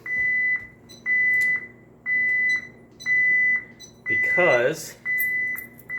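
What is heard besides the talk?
alarm system beeping before being disarmed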